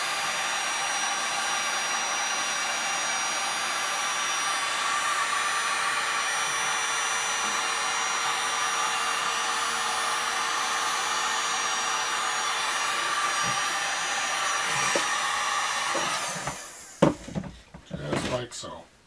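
Steady close whoosh of a heat gun blowing over a desk's edge banding, holding constant for about fifteen seconds before it cuts off, followed by a few soft knocks and clatters.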